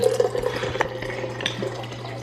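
Water from a Berkey countertop filter runs steadily for a couple of seconds in a home kitchen, a soft, continuous trickle with faint splashes close by, heard on its own.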